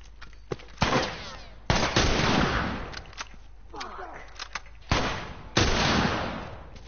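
Rifle gunfire in The Last of Us, several loud booming shots and short bursts spread across the clip with echoing tails, close and punchy, while someone talks between and over them.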